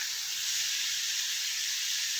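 Minced keema and onions cooking on a tawa over a medium-low flame give off a steady, even sizzle and hiss that holds unchanged throughout, close and alone with no talk.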